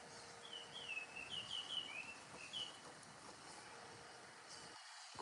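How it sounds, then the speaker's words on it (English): A bird calls in a quick series of thin, high chirps against a faint, constant background hiss, fairly distant, with no voices. "Quite the noisy bird."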